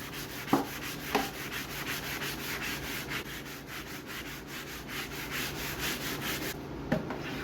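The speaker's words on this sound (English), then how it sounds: "the surface is kind of rough, so I'm going to sand it down with some 320." Steady rhythmic sanding of a painted vintage end table with 320 grit sandpaper, a soft scratchy rubbing that repeats in even back-and-forth strokes, close and moderately quiet, with a couple of light knocks.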